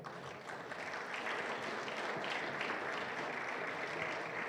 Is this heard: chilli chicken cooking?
no